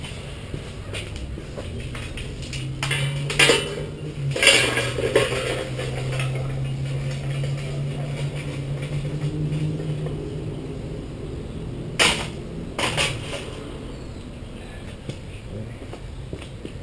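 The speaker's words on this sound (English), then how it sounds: "Okay, so we're going to put the coals in the forge." Hot coals go into a knife-making forge, giving a few scattered clattering scrapes and knocks against a steady background rumble, with quiet gaps between the bursts.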